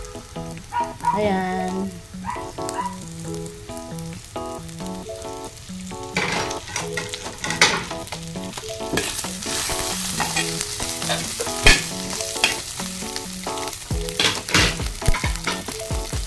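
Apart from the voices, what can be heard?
crab paste and jackfruit frying and being stirred in pan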